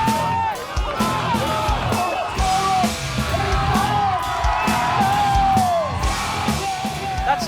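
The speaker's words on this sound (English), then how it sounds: "The crowd's going mental." A crowd at a men's bike cross final in sunny Plymouth cheers wildly, with continuous yelling, whooping and hollering from many voices, loud and close throughout.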